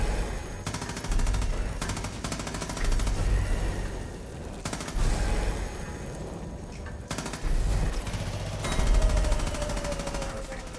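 An M249 machine gun hip-fired in Far Cry 5, heard as loud repeated bursts of rapid fire broken by short pauses, with a voice talking over parts of it.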